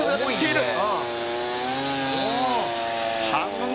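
A chainsaw crosscuts a log from the top, throwing wood chips. The engine roars loud and continuous, close by, as a person talks over it.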